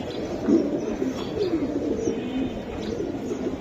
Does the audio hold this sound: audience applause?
no